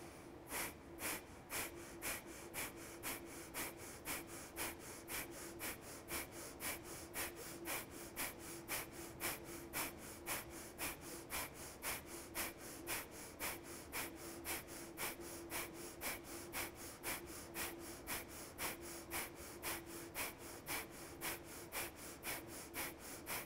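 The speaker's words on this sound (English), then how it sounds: "begin to focus on powerful breath out from the belly, out through the nose" Forceful rhythmic yoga exhalations out through the nose, dozens of sharp evenly spaced breaths from the belly repeating steadily, close and fairly quiet with no talking.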